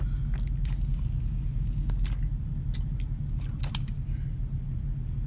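Plastic wrapping being peeled off a new red iPhone 8 Plus: scattered crisp crackles and rustling bursts, close by, over a steady low rumble in the room.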